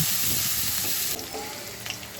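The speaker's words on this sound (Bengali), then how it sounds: "কিছু কাঁচামরিচ দিয়ে নেড়ে চেড়ে এগুলোকে আমি ভেজে গোলাপি করে নেবো" Onions and green chillies sizzle loudly in hot oil in a wok, a dense frying hiss that drops slightly partway through, with a faint stir near the end.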